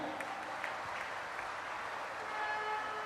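Clapping from an audience at a grand ceremony honouring President Droupadi Murmu, a steady wash of applause filling the whole stretch at moderate loudness, with no clear voices above it.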